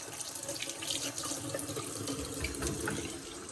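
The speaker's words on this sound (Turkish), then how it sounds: "Şuradan bir elimi yıkayayım." Hands being washed under a running water tap outdoors on a hot day, a steady close splashing stream with uneven gurgles as the flow is broken, no voices.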